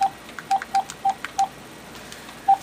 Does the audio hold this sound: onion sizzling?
no